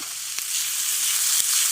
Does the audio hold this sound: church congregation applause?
no